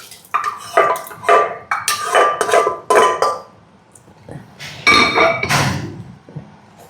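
A pot lid clatters open on a metal sambar pot, then mashed dal is poured in, with several sharp metallic clinks and scrapes of utensils close by in a kitchen.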